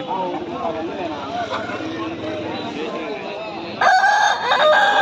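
A Gaaju breed rooster crows loudly and clearly near the end, at a crowded Sunday poultry market in Pileru. Steady talk and market babble fill the stretch before it.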